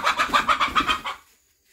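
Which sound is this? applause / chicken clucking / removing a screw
chicken clucking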